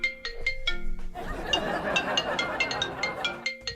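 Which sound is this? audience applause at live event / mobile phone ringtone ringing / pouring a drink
mobile phone ringtone ringing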